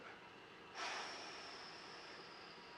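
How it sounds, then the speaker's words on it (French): A slow, soft exhalation during a back exercise: quiet room tone, then a sudden breathy rush of air that gradually tapers over a couple of seconds, faint and close. "Je souffle."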